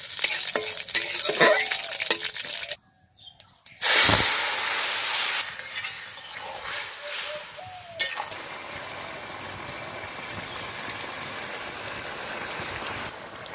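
Black mustard seeds and dried red chillies for tempering fry on top of a green tomato and small fish curry, with a loud, close sizzling burst that settles into a steady hiss and occasional clinks.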